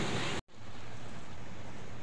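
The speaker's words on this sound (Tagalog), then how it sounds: "Medyo malakas lang yung alon guys." Strong ocean waves break at the beach in Agoo, La Union, a loud, steady surf roar with a brief cut of silence early on before the rushing water resumes and continues.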